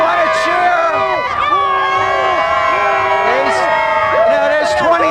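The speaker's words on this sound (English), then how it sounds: "They still want to cheer" A dense crowd at the Phillies championship parade cheers and whoops nonstop, with high shouts and whistles rising over a thick wall of voices packed close around.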